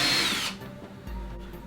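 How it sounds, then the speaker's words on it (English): A power drill bores into the side of a wooden aquarium tank stand in a short whining burst that drops off, followed by a low motor rumble at close range. "drill a hole into the side of the tank stand"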